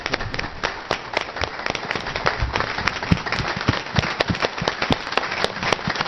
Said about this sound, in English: we also need to provide a big round of applause for Cindy leading the MSA Coalition.